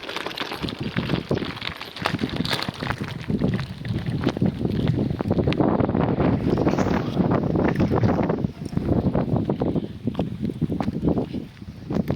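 Wind gusts buffet the microphone at the seaside, a loud continuous roaring rumble with crackly bursts throughout, and no voices.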